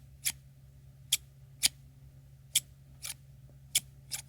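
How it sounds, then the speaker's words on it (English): Scissors opening and closing, seven crisp metallic snips spaced unevenly over a few seconds, close and fairly quiet against a faint steady hum, no speech. "here's me opening and closing the scissors a couple of times"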